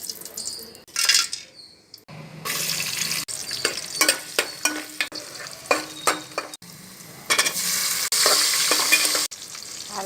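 Ghee sizzles in a pan for chicken biryani, heard as a close, loud frying hiss that comes in separate bursts, broken by sharp metallic scrapes and clinks from a spoon against the pan.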